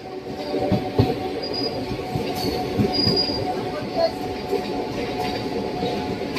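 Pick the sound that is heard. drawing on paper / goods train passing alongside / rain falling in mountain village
goods train passing alongside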